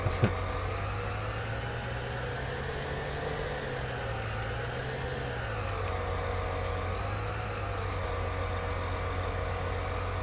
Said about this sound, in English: Make sure I don't back into my tractor there.